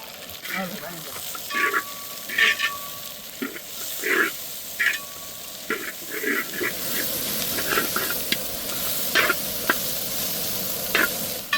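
Green, red and yellow bell peppers frying in hot oil in a pan for a mushroom masala, giving a steady sizzle broken by repeated short scraping bursts as the pieces are stirred, close and clear with no speech.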